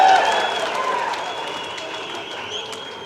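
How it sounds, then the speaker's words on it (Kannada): Audience applause at a Kannada political speech in a crowded hall, a dense wash of clapping starting loud and gradually thinning over a few seconds, with crowd noise underneath. "ಒಡ್ರಿ ಚಪ್ಪಾಳೆ."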